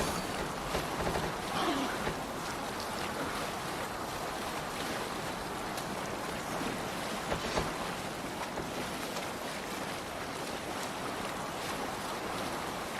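Longship sailing at sea in Assassin's Creed Valhalla, with continuous faint wash of waves and wind against the hull and no voices.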